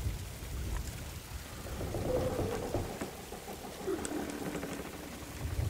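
Steady rainfall with low rumbling thunder in a Sea of Thieves storm at sea, a continuous hiss that swells in the middle, with no speech.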